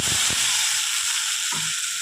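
Ground tomato chutney hitting a hot pan of tempered mustard seeds, urad dal and curry leaves, giving a steady loud broadband sizzle throughout with a couple of soft stirring knocks.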